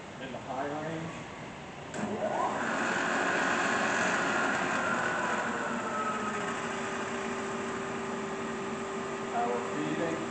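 An Acer 3VKH vertical milling machine with its spindle running in high range, a steady mechanical whine and hum that rises after a short pause, with someone talking over it.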